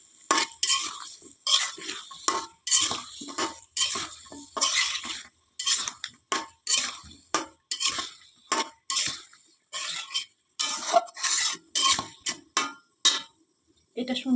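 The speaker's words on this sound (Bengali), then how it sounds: "আলু, শিমের বীজ, টমেটো আর গাজর একসঙ্গে দিয়ে এটা সুন্দর করে আমরা কষাই নিব।" Potatoes, bean seeds, tomatoes and carrots being stirred in a pan, a close run of rhythmic scraping and clinking strokes with light sizzle underneath, at a steady regular pace.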